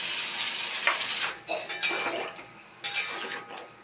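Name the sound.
water added to a pan of spiced potatoes and pointed gourd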